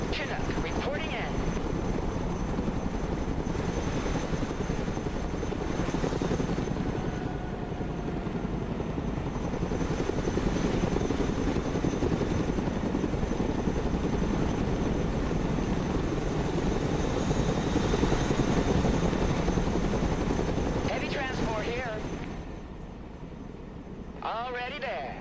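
A Chinook helicopter in the Broken Arrow video game drones with a loud, steady rotor and engine roar throughout, with voices speaking over it and the noise easing slightly toward the end.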